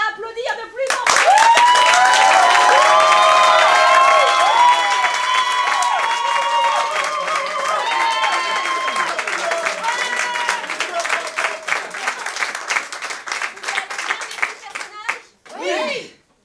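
Audience applause bursts in and builds into dense, loud clapping from a live crowd, holding strong before thinning out and trailing off, with scattered voices and a voice near the end.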